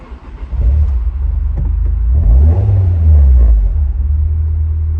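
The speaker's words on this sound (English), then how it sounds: "Going to roll the windows. We're going to start it up." A Nissan S15 with an aftermarket exhaust fires up indoors, a deep booming rumble that swells as revs briefly rise, then settles into a loud, steady low idle.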